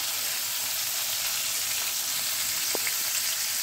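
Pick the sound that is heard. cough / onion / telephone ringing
onion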